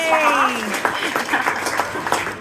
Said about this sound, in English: I'm going to give a clap for Alfie for Eden.